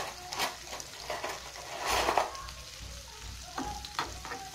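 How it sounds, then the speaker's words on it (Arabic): Leeks frying in a pan of table oil and olive oil over the flame, with a soft sizzle broken by scraping stirs and a louder burst of crackling midway, close and without talk. "فوق النار مقله، درت فيها البورو وزيت مائده وزيت الزيتون"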